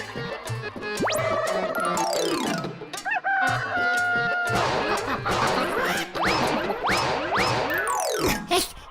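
A rooster crows and chickens cluck in an animated comedy episode, mixed with loud cartoon music, boing effects and crashes throughout, with no talking.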